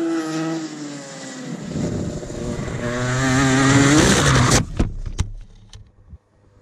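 Go kart on the Numurkah track, its small engine buzzing and climbing in pitch through a corner, then cutting off with a few sharp clanks and pops before near silence.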